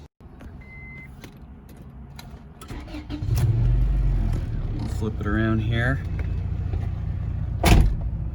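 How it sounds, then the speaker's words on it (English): A 1999 Acura Integra GS-R engine cranks and catches, then settles into a steady idle rumble while someone talks nearby. "Car fires right up, idle's great"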